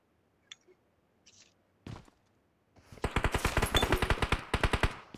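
Rapid automatic gunfire in PUBG Mobile on the Livik map, a fast regular burst of sharp close shots after a few scattered quieter clicks and thuds.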